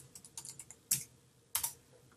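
Several quick keystrokes on a computer keyboard while a tweet is typed, a soft irregular patter followed by two sharper, louder key clacks, close and alone.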